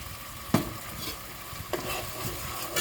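Beans and their liquid being stirred into rice in a pot, a few distinct scraping strokes over a steady low simmering hiss, close and moderately quiet.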